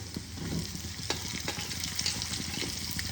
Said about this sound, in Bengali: আমি এবার পেঁয়াজগুলোকে দিয়ে দেব